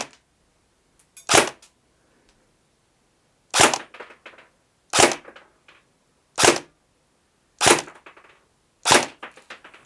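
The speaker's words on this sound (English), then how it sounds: "now we're going to do the Nuprol Delta, and hopefully we'll actually put some holes in there" Nuprol Delta airsoft M4 AEG rifle firing single shots outdoors, six sharp cracking reports spaced about a second or more apart, loud and close with brief mechanical rattles after each, no talking.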